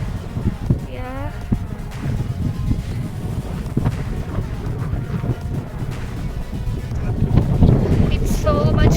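Cold wind blows at a hill pond on a trek, buffeting the microphone in loud, gusty rumbles that build toward the end, with voices talking over it.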